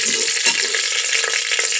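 Green chilies fry in hot oil in a pan, giving a loud, close, continuous sizzle with a few brief stirring scrapes and no talking.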